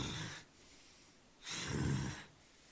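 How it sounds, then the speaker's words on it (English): Two heavy, breathy exhalations from the character Sam in the Seduce Me! video game, each about a second long with a pause between, rough and close like panting grunts for air. "The only thing anyone could hear then was Sam's panting grunts for air"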